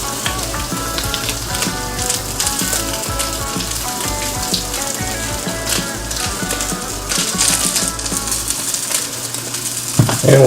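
Crispy gnocchi frying in a pan with spices, a loud, continuous crackling sizzle with scraping and clatter from stirring throughout, and a sharper knock near the end, with no talking.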